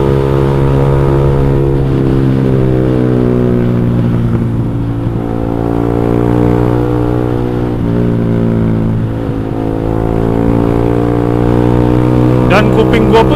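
A motorcycle engine with raised compression and a short aftermarket knalpot, an X1Speed Pro One exhaust, runs steadily and loudly throughout, holding a smooth, even tone with slight dips before a sharper burst near the end.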